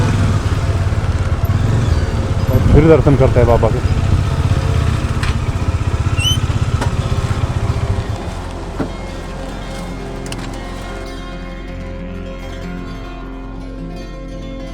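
A motorcycle in a temple parking area at Kainchi Dham, Uttarakhand, idles loudly up close for several seconds and then cuts off. A quieter ambient background follows, with someone talking over it.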